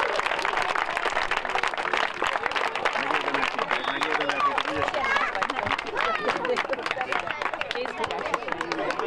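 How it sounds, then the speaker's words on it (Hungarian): A crowd applauding with steady clapping, mixed with cheering and chatter, loud and continuous throughout, at the winners' announcement of a children's football tournament in Hajdúnánás, Hungary. "Nagy tapsot!"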